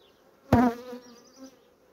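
Honey bees buzz around a hive frame that honey has just been poured onto, heard as a brief close buzzing burst that then settles into a fainter hum.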